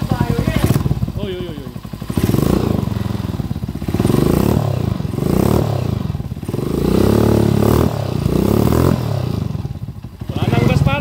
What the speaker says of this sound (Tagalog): Okay, rev natin. Alayang silencer, mamandar na.